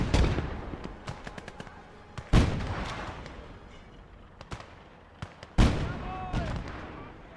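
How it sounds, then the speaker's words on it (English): A Pak 36 anti-tank gun fires in the Gates of Hell war game, three sharp loud booming shots with echoing decay, set among scattered distant gunfire and battlefield rumble. "We've moved up the Pak 36, and it is getting some decent shots"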